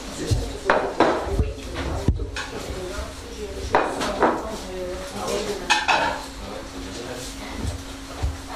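A plate is handled in a kitchen while oranges and spaghetti with two pestos are prepared, producing several sharp ceramic clinks and knocks scattered among kitchen clatter, with people talking nearby.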